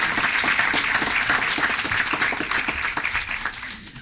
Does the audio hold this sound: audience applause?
yes